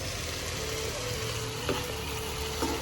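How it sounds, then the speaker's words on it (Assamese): Chopped tomatoes dropped into hot oil in a frying pan while cooking a fish curry in a hostel kitchen, giving a steady, loud, close sizzle with faint stirring clicks and no talking. "এইটো এইবাৰ আমি বিলাহী দিওঁ ইয়াতে"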